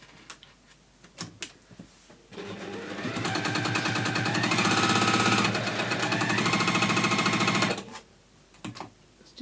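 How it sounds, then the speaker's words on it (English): A domestic sewing machine runs a top-stitching pass down fabric, a steady fast rattling needle clatter lasting about five seconds, close and clear, framed by a few softer clicks and handling knocks before and after. "I'm just going to top stitch down both sides."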